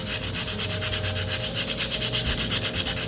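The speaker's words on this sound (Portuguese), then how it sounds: "Percebam que eu estou lixando muito delicadamente, bem levinho mesmo" Light, delicate sanding of a ceramic piece by hand, a steady rhythmic rubbing of abrasive paper back and forth, close and continuous, with no voices.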